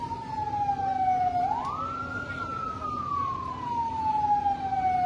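A single fire truck siren in a town street at a New Year fire, a loud wailing tone that sweeps up and then slowly falls, heard alone over steady background noise.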